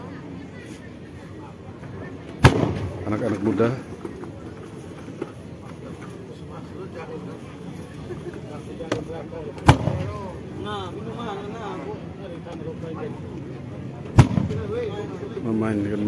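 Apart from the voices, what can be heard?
bamboo cannon blasts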